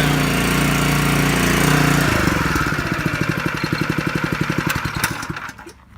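The engine of a power spreader runs loudly and evenly, then is throttled down into a slower, pulsing, lawnmower-like putter that fades toward the end.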